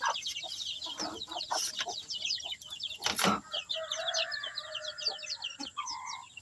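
Ducks and chickens at morning feeding time on a backyard farm, with dense overlapping chirps, clucks and wing flaps close by, a busy continuous chorus with brief louder bursts and no talk.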